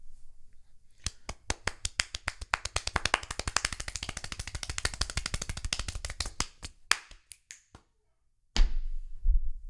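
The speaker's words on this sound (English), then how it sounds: "Clapping fast." One person clapping their hands extremely fast, a rapid, even stream of sharp claps building in speed and loudness for several seconds, then a few slower claps, a brief silence and a burst of louder noise.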